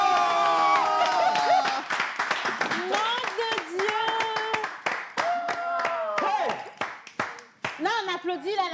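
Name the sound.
audience applauding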